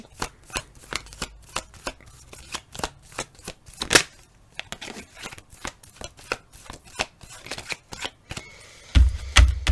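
Tarot cards are shuffled by hand in a steady run of crisp riffles and slaps, close and clear, with one sharper snap midway and a soft thump at the end.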